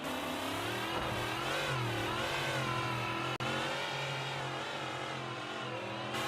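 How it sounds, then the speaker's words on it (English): An off-road racing car engine in a sim racing game roars at wide open throttle through rocky Johnson Valley terrain, a loud continuous rasp with wavering pitch and no break. "you can hear that wide open throttle"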